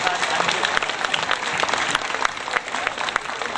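A large audience at the Prima Klima Schramberg 2010 event gives sustained, dense applause, steady and loud throughout.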